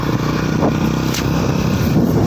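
A motorcycle riding offroad up a village trail, its engine droning steadily and loudly with rattles and scrapes over rough ground, no speech.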